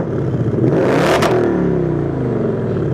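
A 2024 Ford Mustang GT in standard exhaust mode revs hard and loud, the engine roar climbing and then holding a steady, sustained drone with a brief sharp burst partway through; no voices.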